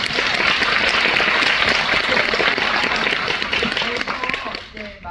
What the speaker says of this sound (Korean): 우리 세 분께 박수 한번